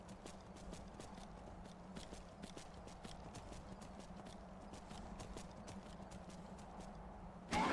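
Steady rhythmic clip-clop of a horse's hooves while riding in the Skyrim video game, a continuous even trot under faint ambient rumble, with a louder burst at the very end.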